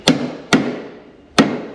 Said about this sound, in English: Gotta hammer this one out